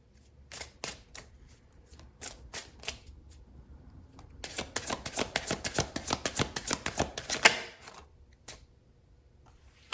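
Tarot cards shuffled and drawn for a love reading: scattered crisp flicks and snaps, then a dense burst of rapid riffling in the middle before a few final card slaps and quiet.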